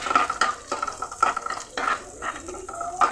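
Chopped onion sautéed in oil for a soybean curry, stirred in a pan: repeated scraping strokes with soft sizzling between them, close and fairly loud, no speech.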